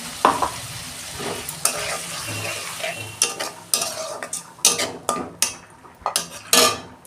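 Spice paste with black cumin hits hot oil in a pan while a utensil scrapes and clatters against the metal. Sharp irregular knocks and scrapes rise over a close sizzle for the whole stretch, with no voices.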